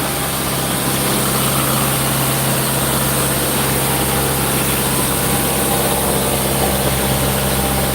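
Loud, steady drone of a boat engine heard up close in the starboard engine bay, a constant low rumble with vibration and no change in rhythm, filling the whole space.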